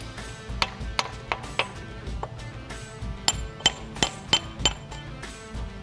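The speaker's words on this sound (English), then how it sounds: "we can go ahead and knock this pin out. I got my hammer and I got my pin driver." Steel hammer strikes a pin driver to knock a pivot pin out of a Yanmar excavator during a thumb installation, a run of sharp metallic clinks and knocks in uneven rhythm, close and fairly loud with no talk.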